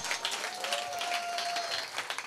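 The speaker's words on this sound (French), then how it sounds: "Il faut bien l'applaudir quand même, il faut l'applaudir quand même." A hall audience gives a soft, somewhat distant round of applause, a continuous patter of clapping with a thin sustained tone running through the middle.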